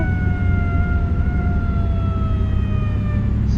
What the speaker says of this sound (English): Sirens blazing. Lights are on.